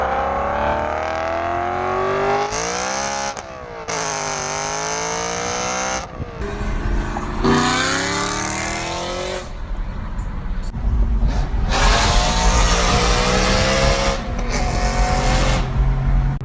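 A BMW M3 engine with a modified exhaust revs hard, pitch climbing and dropping in repeated loud pulls, with a raspy, aggressive tone.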